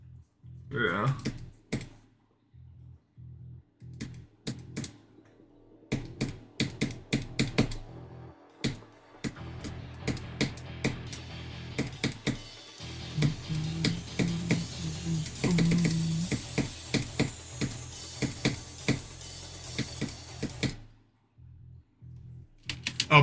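A computer keyboard is typed on nearby in uneven bursts of sharp key clicks, with pauses between runs. Speech comes and goes beneath the clatter.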